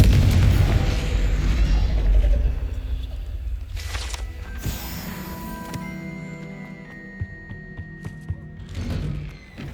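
A Confringo blasting spell explodes in the game Hogwarts Legacy with a heavy booming rumble at the start, then fading crackles and ringing game effects.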